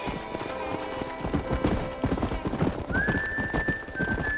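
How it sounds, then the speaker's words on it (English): Wild horses in the Red Dead Redemption video game gallop with rapid, continuous hoof clip-clops and break into neighing whinnies, all close and busy. "That ranch hand said there's a pack of wild horses nearby. Well, let's go tame some of these wild horses."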